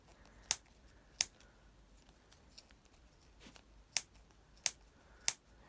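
Sharp scissor snips, six distinct cuts spaced irregularly, close and crisp against a quiet background.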